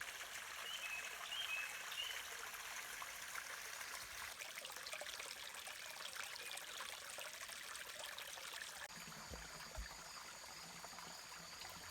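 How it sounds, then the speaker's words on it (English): A small creek flowing beside a hiking trail, a soft continuous trickle and burble of water heard at low level, with a few faint bird chirps early on. "there's a small creek. This must be Matts Creek right here. Flows next to the trail"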